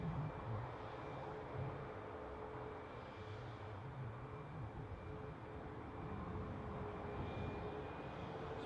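A Boeing 737 Max 8 departing Newcastle airport gives a steady, distant jet roar with a low rumble that holds evenly throughout, no voices.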